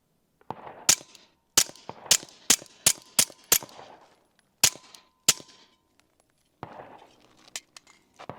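Sharp, quiet cracks from a SilencerCo Maxim 9 suppressed 9mm pistol, about ten shots fired in quick succession with short gaps, followed by softer clattering handling noises.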